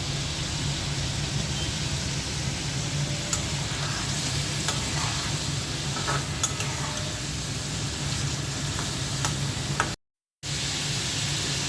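Pre-fried tengra fish cooking in masala sizzles loudly and continuously close by, with a few light clinks and scrapes of stirring and a brief cut near the end.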